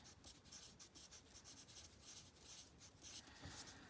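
A pencil scratches out lettering on a sketchbook cover in quick, faint strokes, with a soft, close rhythmic scraping and no talk.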